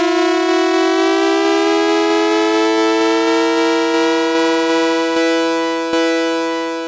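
Bass Station II synthesizer with two sawtooth oscillators tuned a fifth apart, a bright buzzy sustained tone with a pitch gliding slowly, loud and alone, fading slightly at the end.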